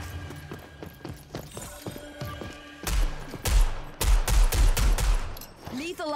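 Rapid bursts of gunfire in the video game Rogue Company, sharp cracks in quick clusters that grow louder and denser midway, with a few close, heavy shots near the end and brief talk between them.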